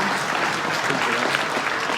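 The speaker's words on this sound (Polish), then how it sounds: "Brawa! Brawa dla" An audience applauding, a dense, loud wash of clapping with crowd voices mixed in, steady across the short stretch.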